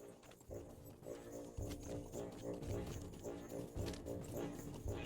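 Horse hooves clip-clopping in the online game LOTRO as a character rides uphill, a steady galloping thud rhythm under a faint ambient game soundscape.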